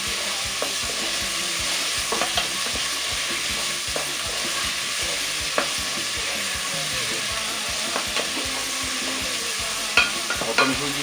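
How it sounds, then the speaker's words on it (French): Potatoes sizzle steadily as they fry in sauce for a rice zembrocal, with scraping stirs and occasional sharper clicks from the utensil over a constant hiss, no voices. "les pommes de terre, on va les faire revenir un petit peu dans cette sauce"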